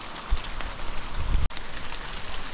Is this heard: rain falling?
yes